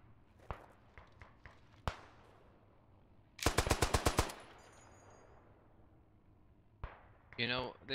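A heavy machine gun in the World War I game Beyond the Wire, on the German Empire side, fires one sharp, loud burst of about ten rounds after a few scattered distant shots, and a voice follows near the end.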